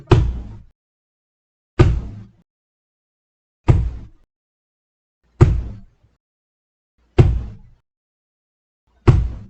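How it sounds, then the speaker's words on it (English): Knocks land on a basement door in a narrated horror story: six single, heavy thuds spaced evenly and slowly about two seconds apart, each dying away into silence, with no voices. "they both heard a knock at the basement door"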